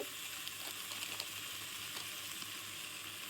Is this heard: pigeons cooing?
no